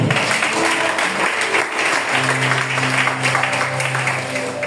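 A church congregation breaks into sustained applause in praise, loud and dense for a few seconds, with a low sustained tone emerging underneath partway through.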